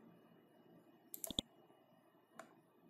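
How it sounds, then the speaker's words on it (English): A few sharp computer mouse clicks land in quick succession near the middle, with one more single click shortly after, all close and crisp over a quiet background. "now click on this download now"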